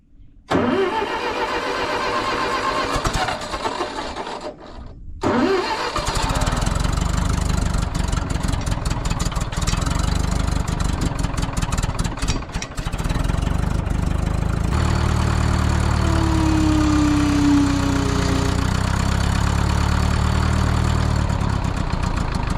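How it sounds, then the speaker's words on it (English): Engine of a farm trencher laying field tile in a wet corn field cranks and catches, then settles into a steady, loud mechanical idle close by, with a deeper rumble building in the last several seconds. "Let's fire this thing up so I can get the boom up."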